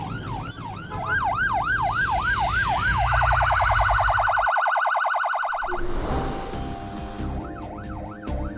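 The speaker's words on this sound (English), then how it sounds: "Listen for different sirens and look all round before moving off." Emergency vehicle sirens overlapping, a wailing sweep giving way to a rapid yelp and then a two-tone pattern, loud and close with engine rumble underneath and no talking.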